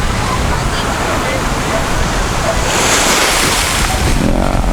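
Ocean waves and wind at an ocean front: a loud, continuous roar of surf and gusting breeze filling the whole stretch, with no pauses.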